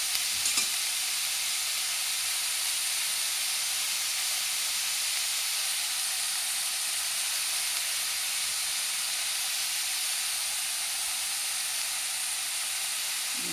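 Mutton masala frying in a pan gives a loud, steady, unbroken sizzling hiss close by, with no break in it for the whole stretch.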